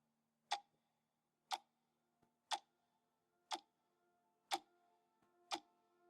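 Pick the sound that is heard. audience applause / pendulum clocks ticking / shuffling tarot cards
pendulum clocks ticking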